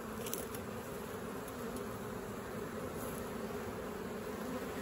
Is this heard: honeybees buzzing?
yes